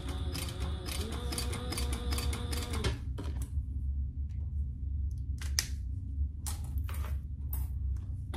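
A sewing machine backstitching across a seam on a vinyl pouch, with a rapid mechanical rattle for about three seconds, then quieter clicks and handling noises against a low hum.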